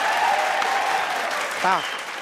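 Audience applause at a qawwali program staged by an orchestra troupe on a comedy stage show: steady, dense clapping filling the whole stretch, with a brief voice cutting in near the end.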